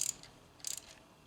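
A ratchet wrench clicks in two short bursts while snugging the flange bolts on a Passat 35i 2E thermostat housing, quick close metallic ticks with a pause between them.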